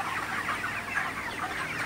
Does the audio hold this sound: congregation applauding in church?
no